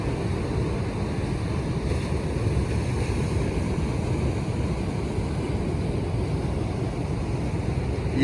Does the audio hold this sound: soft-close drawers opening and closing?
no